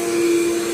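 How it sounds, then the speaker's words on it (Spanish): A vacuum cleaner runs steadily while cleaning a car interior, a continuous close whine with a strong constant tone and no voices. "Le voy a arrimar la aspiradora."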